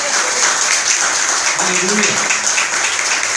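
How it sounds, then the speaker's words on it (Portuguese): A church congregation gives a round of applause for Jesus, with steady, dense clapping filling the room throughout while a voice calls out over it. "dê uma salva de palmas para o Senhor Jesus"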